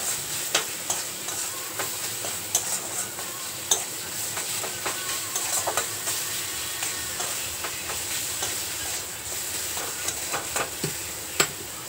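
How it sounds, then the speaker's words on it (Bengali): Tomato with turmeric, cumin and Kashmiri chilli powder frying in a pan for a vegetarian taro and potato dish, a soft steady sizzle broken by repeated sharp clicks and scrapes of stirring, close and alone. "এবার সমস্ত কিছু খুব ভালো করে ভেজে নেব।"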